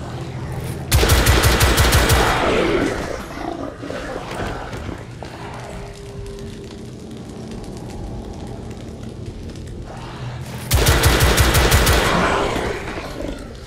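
Heavy gunfire in the shooter game The Order 1886: two loud sustained automatic bursts, one near the start lasting a couple of seconds and another near the end, with quieter rumbling action and scattered noise between them.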